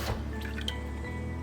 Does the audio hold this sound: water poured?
yes